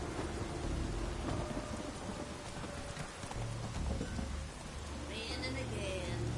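Steady rainfall hisses throughout a stormy scene in The Witcher video game, with low rumbles of thunder rolling underneath at moderate volume and a faint voice in the background.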